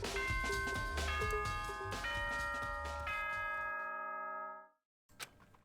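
A bell chime in an anime video game: several bright, ringing tones struck in sequence, each layering and sustaining before fading into silence, followed by a faint short sound.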